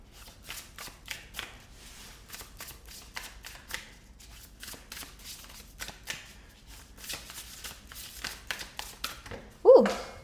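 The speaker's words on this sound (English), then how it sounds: "so let's just keep shuffling." Tarot cards are shuffled close by in a steady run of soft, rapid riffling taps and slaps, and a louder clatter bursts out near the end as the cards tumble.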